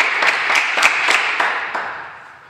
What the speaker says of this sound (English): Clap it up for the big fellas